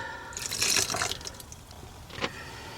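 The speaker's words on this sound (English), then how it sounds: "So I'm going to go in with the water," Water is poured in while making Thai sweet chilli sauce (nam jim gai), a soft splashing pour lasting about a second and a half, followed by quieter trickles and a final small splash.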